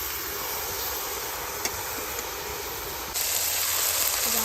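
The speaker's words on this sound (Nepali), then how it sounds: "कुकरमा पकाउँदैछ फर्सी" A pressure cooker with pumpkin inside hisses steadily on a village stove, a constant loud steam jet that grows a little stronger toward the end.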